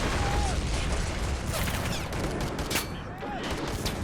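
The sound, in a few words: gunfire in the video game Men of War: Assault Squad 2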